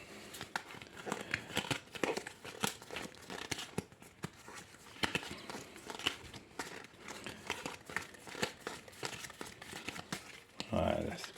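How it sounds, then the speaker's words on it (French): A deck of cards for the Samurai Spirit board game being shuffled by hand, soft papery riffles and crinkly rustles repeating close by while a person talks over them. "On va mélanger ce paquet."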